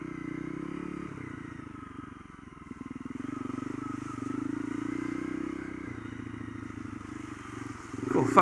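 A Honda CRF250L motorcycle engine green laning along a muddy track, a close, steady rumbling drone with gear changes and shifts in pitch, plus some clatter near the end.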